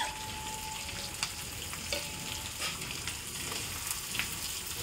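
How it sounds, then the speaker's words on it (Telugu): Tomatoes and onions fry in a pan with a steady, moderately loud sizzle, broken by a few soft scrapes of stirring throughout, with no talking. "వేసుకొని బాగా అలా ఇలా మిక్స్ చేయాలి."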